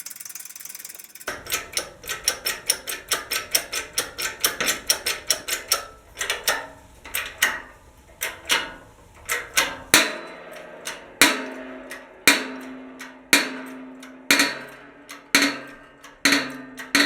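Repeated metal knocks as a turned-down scrap pin presses a frozen axle bolt out of a Wheel Horse Model 401 tractor axle, starting as rapid clustered taps and slowing to loud, evenly spaced heavy strikes with ringing decay, no talk.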